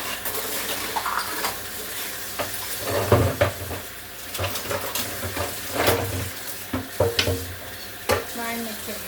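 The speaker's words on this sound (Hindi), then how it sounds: "धो देती हूँ बर्तन फटाफट।" Dishes being washed in a home kitchen, with a kadhai scrubbed under running water; close clattering of pots and utensils with intermittent scraping and splashing, no talk.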